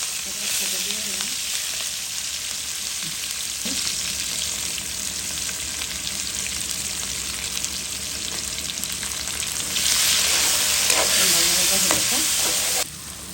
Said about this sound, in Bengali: দিয়ে দিলাম তেল, আলু, পেঁয়াজ, কাঁচামরিচ